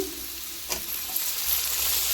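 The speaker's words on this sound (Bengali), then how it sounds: "সব কিছু আমি একটু ভালো করে ভেজে নেব আমি কেটে রাখা বেগুন কুচি দিয়ে দিচ্ছি" Chopped brinjal fries in a pan for a vegetarian banana-flower curry, giving a steady close hiss and sizzle with one brief stirring scrape partway through; no voices.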